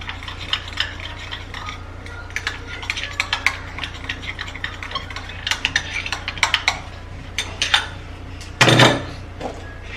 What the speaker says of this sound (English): give it a fine stir